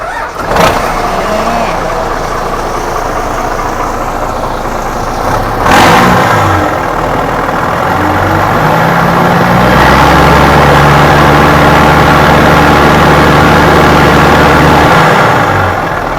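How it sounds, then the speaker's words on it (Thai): A 2004 Isuzu GXZ truck with a 270 hp engine and no muffler, loud and close: a sharp start, idling, then a long rise into a heavy, steady rev that holds to the end. "เสียงดังมากเลยนะ ดังมากไม่มีท่อพัก ไม่มีท่อพักอ่ะ"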